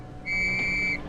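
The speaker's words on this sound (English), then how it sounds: "The warning may also be given by short blasts on police whistles." A single short, shrill police whistle blast, sounded as an air raid warning in late-1930s Britain, rings out steadily for under a second against a faint background hiss.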